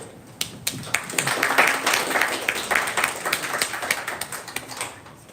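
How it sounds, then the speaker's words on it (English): Audience at a vibe coding hackathon applauding for Lovable, a lively burst of many hands clapping with sharp individual claps standing out, swelling and then gradually thinning. "hear a warm round of applause for Lovable"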